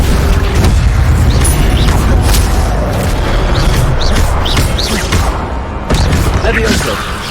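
An Accio summoning spell in the video game Hogwarts Legacy sounds as a loud, busy mix of magical whooshes and booming thuds, with repeated short zips and impacts over a continuous roar of combat ambience.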